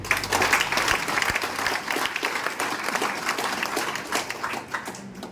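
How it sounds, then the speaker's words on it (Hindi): A crowd at a network marketing talk claps together in a thick, continuous round of applause that stays loud and steady, easing slightly near the end. "एक बार ताली बजाइए इनके लिए।"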